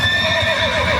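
A bay horse neighs in one close, loud, shrill whinny lasting about a second, with a low rumble of hooves underneath and no voices.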